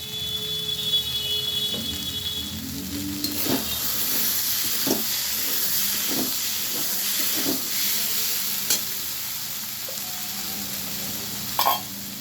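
Peas and potato sautéing for ghugni in a pan, a steady close sizzle with intermittent stirring scrapes over about twelve seconds, no talk.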